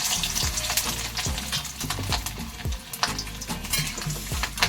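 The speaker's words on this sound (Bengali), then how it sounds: "তেল যথেষ্ট গরম হয়ে গেছে, এবার আমি আলুটা দিই" Potatoes hit hot oil in a pan and sizzle loudly, crackling and spitting close up in a dense, busy rush, with scraping stirs breaking through.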